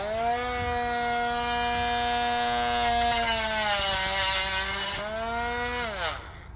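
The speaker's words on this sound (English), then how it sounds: "let's see if we can get this weld cut off with this Dremel" A Dremel rotary tool whines at a steady high pitch while cutting off a weld on a tail light housing for a Packard woody, grinding harsher midway as it bites the metal before winding down.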